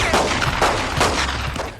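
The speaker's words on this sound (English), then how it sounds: "and a gunfight breaks out." A gunfight from the 1992 action film Tiger Claws, with rapid bursts of gunfire repeating in a dense, loud volley and no talking.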